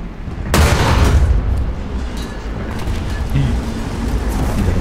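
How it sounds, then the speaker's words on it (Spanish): An ammunition belt cooks off on a vehicle in War Thunder: a sudden loud boom followed by a sustained, rumbling burst of explosive crackle that stays dense to the end. "Y la cinta de munición de eso explota."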